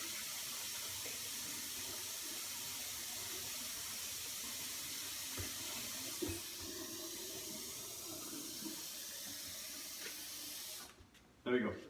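A kitchen tap runs steadily for several seconds while someone waits for the water to turn hot, a constant close hiss that cuts off near the end, followed by a brief clatter.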